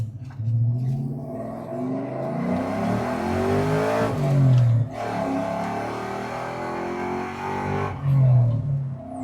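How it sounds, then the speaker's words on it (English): A 1997 Ford Mustang Cobra engine with dual overhead cams revs hard and roars loudly, rising and falling in pitch over several seconds, with a deep throaty rumble. "Those dual over cams sound amazing"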